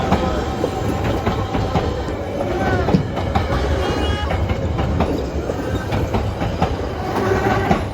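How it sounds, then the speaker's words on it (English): A holiday train rolls over the Rockwell Avenue crossing in Chicago, loud and near, with rhythmic clickety-clack of wheels on rail joints and faint wheel squeal over a steady rumble. "You'll see the holiday train going over Rockwell Avenue crossing"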